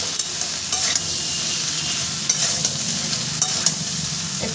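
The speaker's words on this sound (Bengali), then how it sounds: "এবার আমি আমটাকে সুন্দর করে ভেজে নেব" Mango pieces seasoned with turmeric and salt fry in a pan for a sweet-sour mango pickle, giving a loud, steady sizzle with faint scraping of stirring throughout and no voices.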